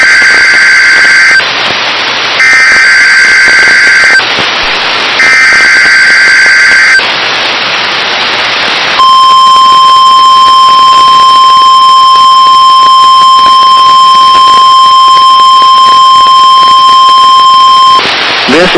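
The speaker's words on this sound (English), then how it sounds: "This is a test of the NOAA radio warning alarm device." A NOAA weather radio warning alarm test sounds as loud alternating two-tone alarm bursts over static, then shifts into a long, unbroken single steady tone lasting several seconds.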